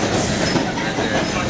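A subway train running on rails, a steady loud rumble with clattering wheels heard from inside the car, with faint voices underneath.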